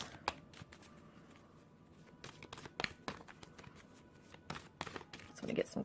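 Tarot cards are shuffled and drawn in quick, crisp riffles and flicks, irregular and close, at low volume with several short bursts spread throughout and no clear talking.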